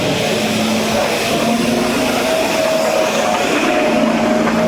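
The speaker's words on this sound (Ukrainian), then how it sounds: "машина прибирає вулиці" A street cleaning machine works outside a medieval palace, a continuous mechanical roar with a steady droning hum, loud and unbroken throughout with no speech.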